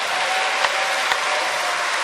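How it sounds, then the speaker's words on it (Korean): Dense, steady applause from a congregation at a church ceremony, a loud continuous wash of many hands clapping at once, with no talking. "두 손을 들고 박수로 환영을"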